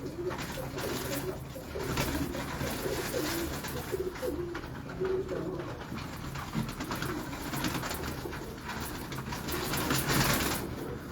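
Shah Parwazi pigeons in Lahore coo softly and repeatedly over a steady, rumbling noisy background, with no clear talk.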